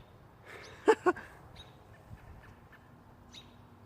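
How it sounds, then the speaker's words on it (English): A robin calling outdoors near a house, two short sharp chirps close together early on, then quieter scattered call notes over a low background hum. "The bird's yelling at you."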